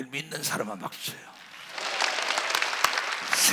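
Church congregation at a Wednesday worship service breaking into clapping, a broad spread of many hands swelling after a speaking voice and continuing as a scattered, steady patter.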